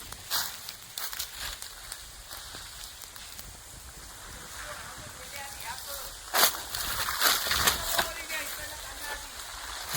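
Water from a hose pipe sprays onto a fire burning in an orchard in the Konkan, a rough splattering patter with sharp bursts, and someone talks over it.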